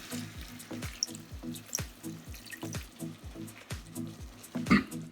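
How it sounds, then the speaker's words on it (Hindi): Water is poured into a pan of chicken curry as it cooks, a run of quick drips and splashes with a faint sizzle below and one louder splash near the end. "इसमें थोड़ा सा पानी मिला देंगे"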